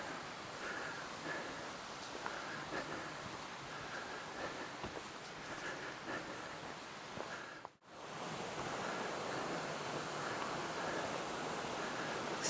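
River running low over exposed stone, a steady broadband rush of flowing water close by that cuts out briefly near the middle, with no talk.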